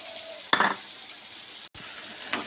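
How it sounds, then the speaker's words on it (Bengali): Onion frying in melted butter in a pan, a soft continuous sizzle with a brief louder stir around the middle and a quick dropout, no talking. "দেখুন বন্ধুরা, পেঁয়াজটা ভাজা হয়েছে।"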